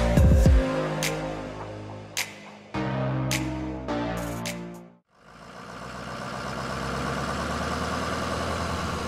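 A farm tractor's engine idles in a steady, low mechanical chug, with a few sharp knocks early on, a brief drop, then a constant, even diesel rumble.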